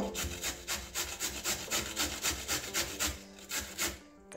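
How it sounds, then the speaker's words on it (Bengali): Cucumber is grated by hand for vegetable paratha, producing quick, rhythmic rasping strokes, several per second, close and steady with no talk. "এবারে শসাটা ওইভাবেই ঘষে নেব।"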